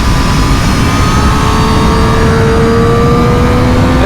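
A Triumph Street Triple 765 motorcycle engine pulls steadily at around 6000 rpm on the road, a loud continuous drone whose pitch climbs slowly as it gains speed, with strong wind rush and no talking.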